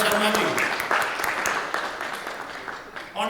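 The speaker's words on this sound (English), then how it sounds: "Can I give a big round of applause to Vice Chairman and Sharmaji?" A round of applause rises for two speakers at a business talk on India's digitalization and UAE legal updates, a short burst of clapping from a modest crowd that fades quickly, with a voice speaking over it.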